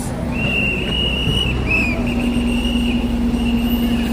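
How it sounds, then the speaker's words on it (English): Shrill whistles blow on a busy Times Square street on New Year's Eve, one long steady blast followed by short chirps, over a loud background of traffic and crowd noise. "I hear whistles, but I don't know what's going on."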